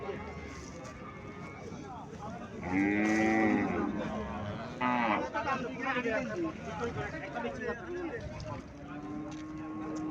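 Haryana cows at a livestock sale give a few drawn-out, loud moos close by, over constant market chatter and voices.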